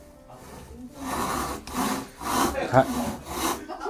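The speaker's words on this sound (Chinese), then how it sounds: "这个锯子，是靠这个锯齿的摩擦前后推动来切割这个" Hand saw cutting through wood in repeated push-pull strokes, a rhythmic rasping rub rising and falling at close range, with a brief spoken word over it.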